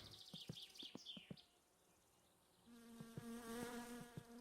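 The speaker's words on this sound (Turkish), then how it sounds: "Sinek sesi geldi." A fly buzzes steadily in a quiet indoor scene, a faint thin drone that starts partway through after a few soft knocks, heard alone without talk.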